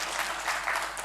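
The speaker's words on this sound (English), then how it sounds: "huge round of applause to all these students" Applause from an audience at a Dayananda Sagar University program, honoring the participating students; steady, fairly distant clapping from a crowd filling the whole moment, with no talking.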